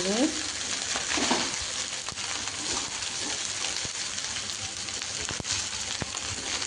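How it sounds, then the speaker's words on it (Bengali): Cooked rice frying in ghee and oil for fried rice sizzles steadily and close, with stirring scrapes and occasional sharp clicks of a utensil against the pan. "এবার ভাতগুলো দিয়ে ভাজবো"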